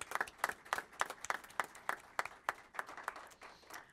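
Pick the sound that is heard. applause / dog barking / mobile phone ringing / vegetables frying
applause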